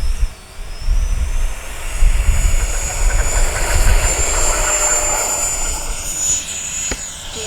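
An FMS F-18F 70mm electric ducted-fan RC jet takes off, its steady high-pitched whine and broad rushing roar building loud and close, then shifting in pitch as it passes away near the end.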